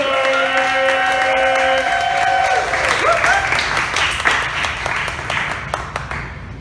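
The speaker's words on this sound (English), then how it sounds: "Clap now, start clapping now, start stepping now." An audience claps at a poetry and music feature evening, steady applause rising as a sustained musical chord fades out, then continuing with crowd murmur.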